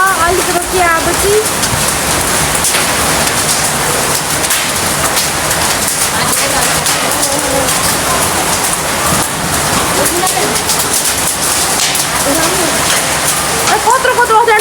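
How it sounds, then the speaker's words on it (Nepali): Hail and rain fall in a dense, steady hiss of countless impacts on surfaces, loud and unbroken throughout, with a voice heard faintly underneath. "असिना पानी पर्दैछ"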